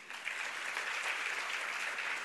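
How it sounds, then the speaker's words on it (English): Audience applause at a Hindu College Founders' Day ceremony, a steady dense clapping from a crowd that fills the whole stretch at even loudness, with no voices over it. "And you hear the claps more from the newly appointed ones."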